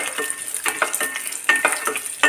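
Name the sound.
frying cashews in oil for lemon rice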